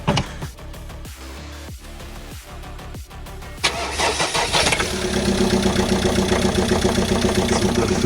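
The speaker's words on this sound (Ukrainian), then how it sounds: "Запуск холодний." A Citroën Jumper, Renault Master or Mercedes Sprinter van engine cold-starts after a few seconds of cranking clicks, catching with a sudden roar and settling into a loud, steady, slightly rough idle close by.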